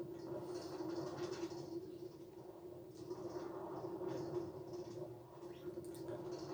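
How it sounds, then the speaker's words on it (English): Steady rumble of a moving train at Disneyland from inside a carriage, a low hum with rattling rising and falling, no voices. "So, now we're on the train."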